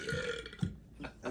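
A short guttural burp after drinking Sprite soda during a chili dog burp contest, a single close rumbling belch with a few smaller throaty bursts right after.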